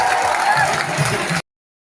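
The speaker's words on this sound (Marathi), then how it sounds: "सर्वांनी जोरदार टाळ्या वाजवायच्या मुंबई पोलिसांसाठी" A crowd at a Ganesh idol arrival procession in Mumbai breaks into applause for the Mumbai police, dense and steady for over a second before cutting off abruptly.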